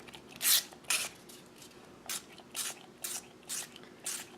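Eight short sharp spritzes of ink from a spray bottle, some coming out as a stream, spaced irregularly, close and crisp against a quiet background.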